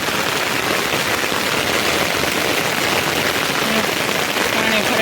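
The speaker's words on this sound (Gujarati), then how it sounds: "જો ફૂલ વરસાદ ચાલુ થઈ ગયો છે" Heavy rain pours steadily onto a residential society during a monsoon downpour, a dense, loud, continuous hiss with no letup, close by and heard alone.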